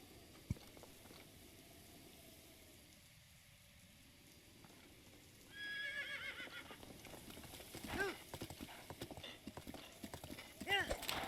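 Horse hooves in The Legend of Zelda: Breath of the Wild: quiet game ambience gives way to rapid clip-clop footfalls and a brief whinny, moderately loud, with a person talking over it.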